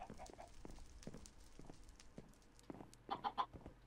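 Chicken clucking in a Minecraft-style block game: soft, scattered clucks over faint background noise, with a short cluster of sharper clucks near the end.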